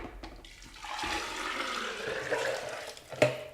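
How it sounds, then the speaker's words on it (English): Strained homemade nut milk pours into a blender jar in a steady, gurgling stream that swells and rushes, ending with a brief splash and a light knock near the end. "I'm going to pour this back into the blender."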